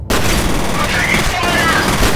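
Loud, continuous gunfire from the shooter video game F.E.A.R., a dense barrage of shots filling the whole stretch at close range without a break.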